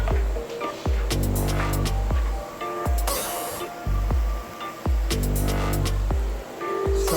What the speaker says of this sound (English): So you can see sizzling away.